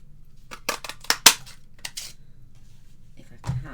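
Scraps of paper being cut out by hand: a cluster of sharp crisp snips and clicks near the start, then quieter handling, close and fairly loud.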